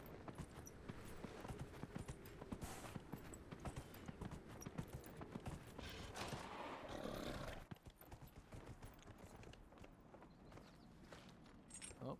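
Horse hooves clip-clop at a steady walking pace in the Dragon Age Inquisition video game, a continuous close rhythm over game ambience, easing slightly in the last few seconds.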